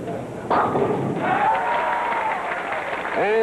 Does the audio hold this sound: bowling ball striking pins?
yes